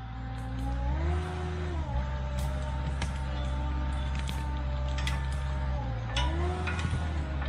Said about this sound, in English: So let's start up the machine and start moving some wood material.